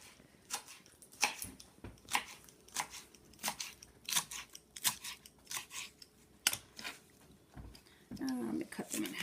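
Knife chopping through rolled collard greens on a cutting board for oxtail and collards, a quick series of crisp cuts in uneven rhythm, close and clear.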